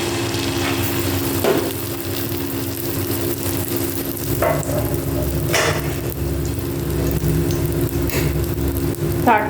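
Egg omelette frying in oil in a pan gives a steady low sizzle under a faint background rumble, with a few brief scrapes and clicks of utensils along the way.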